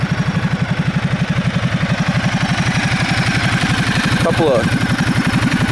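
A Ducati Multistrada 1200S touring motorcycle engine idles with a rapid, steady low pulse and is blipped briefly near the end, heard up close and loud throughout.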